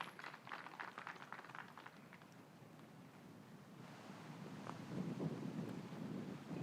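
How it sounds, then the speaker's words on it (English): Blustery wind buffets the microphone in rough, uneven gusts on a disc golf course, with a low rumbling roar that swells toward the end. "Check out that wind, yeah. Gusts are real."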